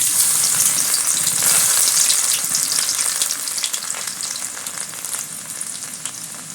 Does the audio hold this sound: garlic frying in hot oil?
yes